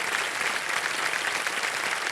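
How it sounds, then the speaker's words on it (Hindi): Studio audience applause on an Indian television quiz show set, Kaun Banega Crorepati, a dense, steady wash of clapping that holds at an even, fairly loud level throughout. "ताली बज जाए इनके लिए।"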